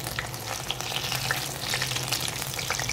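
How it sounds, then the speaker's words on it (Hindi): Potato chapli kababs fry in a pan over a low flame, giving a steady, close crackling sizzle with scattered small pops throughout and a low hum underneath. "लो फ्लेम पे आप इनको फ्राई करेंगे"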